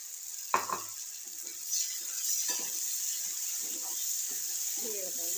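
Brinjal (eggplant) frying in a pan gives a steady, close sizzle and hiss, with a sharp clatter near the start and soft scraping from stirring throughout.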